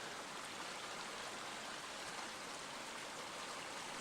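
Overflow water from a retaining pond pours through a small sluiceway into a creek, a steady, close, even rushing wash with no voices.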